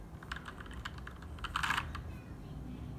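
Typing on a Keychron K2 mechanical keyboard with red switches, a steady patter of soft, close keystrokes with one brief louder cluster midway, heard alone against a quiet background.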